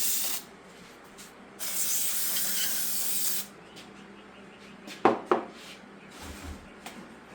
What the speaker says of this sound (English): Sprayed that journal down.